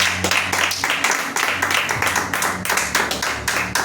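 Congregation clapping during a church service, a loud, close, steady rhythmic beat of many hands with a low hum beneath.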